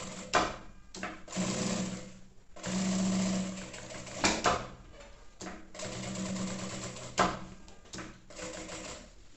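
A sewing machine stitches a maternity bag in short, even bursts of rapid stitching separated by brief pauses as the fabric is turned at a curve, close and clear with no talking.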